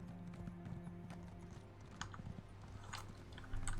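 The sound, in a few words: horse hooves while riding, Elder Scrolls Online video game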